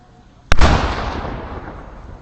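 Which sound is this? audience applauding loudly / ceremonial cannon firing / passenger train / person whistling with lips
ceremonial cannon firing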